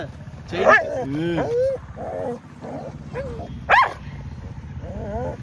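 A black dog on a walk, tied with a rope, gives several close, loud barks mixed with higher yelps and whimpers in uneven bursts.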